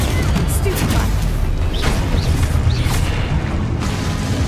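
Expelliarmus spell casts in the Hogwarts Legacy video game: a few booming impacts with short rising whooshes, loud against a constant rumble of game ambience, with a voice heard briefly.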